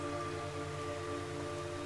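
Steady rain hisses continuously in the video game Metal Gear Solid 3, an even wash of falling drops with a low tonal hum beneath and no voices.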